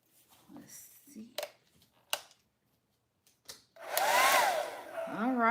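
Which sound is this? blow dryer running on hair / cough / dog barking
blow dryer running on hair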